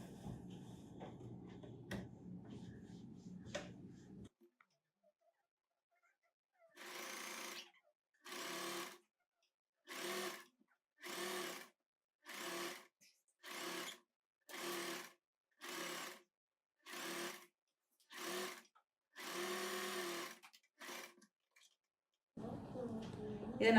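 Short repeated bursts from a sewing machine stitching a churidar neck, about nine evenly spaced runs of a few seconds each, fairly close and clear, with a voice speaking before and after the stitching.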